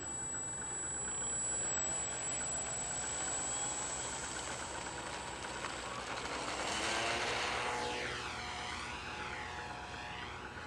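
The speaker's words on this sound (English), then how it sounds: "Well, Wayne's gonna fly his T-28. Finally looks like he got everything adjusted on it and everything, so catch his takeoff" A radio-controlled T-28 model airplane takes off, its small engine buzzing steadily and loudly, then rising in pitch and sweeping back and forth as the plane passes and banks overhead.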